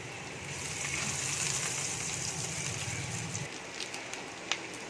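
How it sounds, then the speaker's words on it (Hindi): Potato cutlets coated in egg and breadcrumbs fry in hot oil with a steady, close sizzle that eases off toward the end, leaving a few scattered pops. "इस तरह से सबको एक एक करके फ्राई कर लेना है।"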